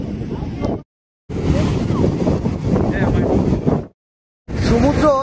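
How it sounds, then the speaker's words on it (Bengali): Rough surf pounds Puri beach, a loud roaring wash of waves heavily buffeted by wind on the microphone, cutting out twice briefly, with a voice speaking over it. "সমুদ্র এখন কতটা উত্তাল দেখো, খালি পেছনে জল কোথায় কোথায় চলে আসছে"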